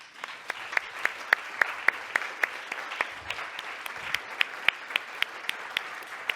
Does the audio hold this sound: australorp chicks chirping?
no